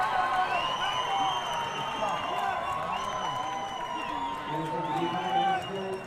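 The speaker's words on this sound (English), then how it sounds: "You can hear the crowd." A crowd at a school rugby semi-final cheers and whoops after a try, a sustained distant roar with scattered clapping beneath a commentator talking over it.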